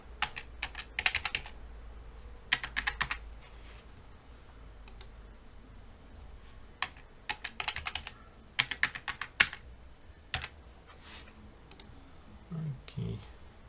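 Keys clack on a computer keyboard as a new password is entered for a TP-Link TL-WA850RE Wi-Fi range extender, arriving in short irregular bursts of close, crisp taps separated by pauses.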